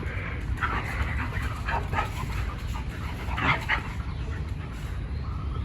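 A dog pants rapidly and whimpers in short high yips, close and continuous against a low background rumble.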